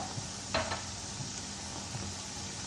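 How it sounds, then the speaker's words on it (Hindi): Beef liver sizzling as it roasts in a karahi, a steady close hiss of frying with a brief clatter of a stirring utensil against the pan. "ये देखें ये कलेजी अब भुनने पे आ गई है"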